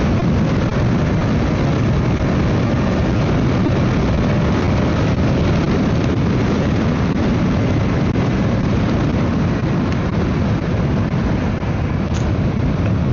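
A KTM Duke motorcycle engine drones loud and steady through a night ride, a continuous low, rough roar that holds for the whole stretch, mixed with heavy wind rush and no talking.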